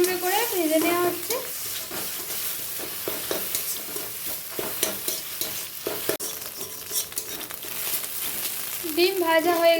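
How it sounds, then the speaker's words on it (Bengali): Eggs are stirred and scrambled in a wok for fried rice, a sizzle punctuated by repeated scraping and tapping strokes, with a brief tonal voice or music at the start and end. "ডিম নেড়ে চেড়ে ঝুরঝুরে করে ভেজে নেওয়া হচ্ছে।"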